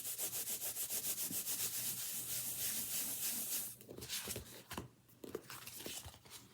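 A paper Christmas card has its back rubbed with quick, even back-and-forth strokes for nearly four seconds, close and fairly quiet, then a few softer scuffs and paper rustles follow.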